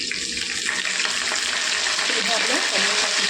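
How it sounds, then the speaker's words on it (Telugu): Curry leaves and green chillies fry in hot oil for a lemon pulihora tempering, giving a loud, steady sizzle with a few sharper crackles near the end. "ఇందులో మనం కరివేపాకు వేసుకుందామండి."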